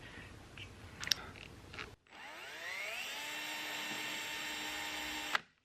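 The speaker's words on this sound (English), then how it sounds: "And show you how I drill the holes." After a few soft handling taps, a power drill spins up with a rising whine and bores steadily through RV fiberglass toward the aluminum framing for a slide topper awning track, then stops abruptly.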